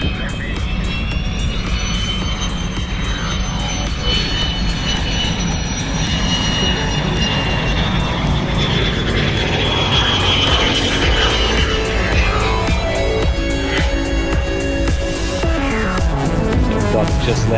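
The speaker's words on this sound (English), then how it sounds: "Buck just landed after the first test flight on 187 Delta in 5 years. He's come taxiing back in now." An L-39 Albatros jet trainer taxis back after landing from a test flight, its turbine whine loud and close, pitch sliding and shifting as the engine note changes; voices talk faintly underneath.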